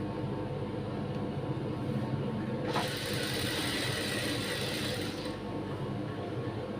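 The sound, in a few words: sewing machine stitching puff sleeve fabric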